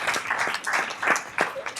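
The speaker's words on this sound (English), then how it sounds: "you deserve a round of applause" Brief applause at a school board meeting, a few uneven bursts of clapping from a modest crowd, close and moderately loud, lasting under two seconds.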